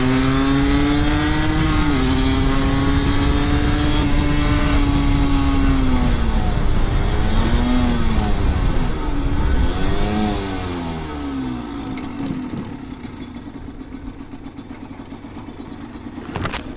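A Yamaha TDR 125 two-stroke motorcycle pulls away from a start, its engine revving hard and rising in pitch through the gears. It is loud and close, then fades as the bike moves off.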